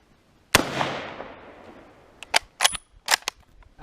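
A 1918 Rock Island 1903 rifle in .30-06 fires one sharp, loud shot that rings out with a decaying echo, followed by several quick metallic clicks and clacks of the action.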